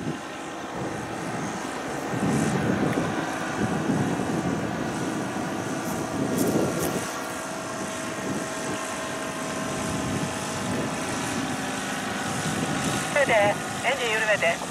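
Radio-controlled airplane engine droning steadily on a landing approach as the throttle is eased back, with a rising whine near the end and people talking over it outdoors.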